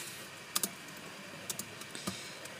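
Close, quiet tapping on a computer keyboard while entering Arduino code, a few scattered keystrokes and short pairs of clicks over a faint steady background hiss.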